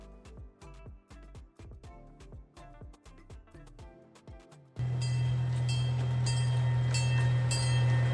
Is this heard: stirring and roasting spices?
no